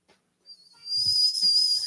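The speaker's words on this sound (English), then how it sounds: "So I go up the stairs and I purposely will whistle." A person whistles while going up the stairs: one long, steady, shrill whistled note rising to a loud, sustained tone, with faint footsteps and rustling underneath.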